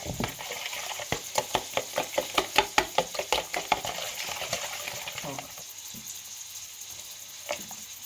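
Rapid rhythmic clicking and tapping of a utensil beating two eggs in a bowl, fairly quiet, slowing and fading after a few seconds.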